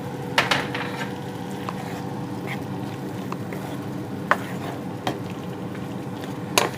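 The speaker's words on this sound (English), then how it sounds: "I'm going to take the pasta noodles and just mix it in there" Pasta noodles being stirred into a pan with onions for a tomato herb dish: a soft background sizzle broken by occasional sharp scrapes and clinks of the utensil, with no talking.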